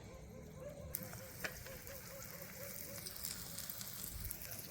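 Potatoes rubbed with salt, chili and coriander-cumin, dipped in a semolina and rice flour coating, fry in hot oil with a soft, steady sizzle and occasional light pops, quiet and close with no talking.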